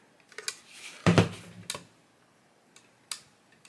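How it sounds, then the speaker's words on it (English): Plastic toy cauldron mechanism clicking as it moves: a few sharp, separate clicks and ticks, close and fairly quiet, with one louder clattering knock in the middle and no talking. "hear it clicking. It's moving."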